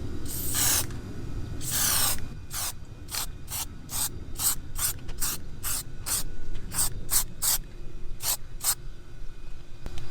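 Plasti Dip sprayed from an aerosol can in a light coat: a series of short hissing bursts, two longer ones first, then about a dozen quick, evenly spaced sprays, close and moderately loud.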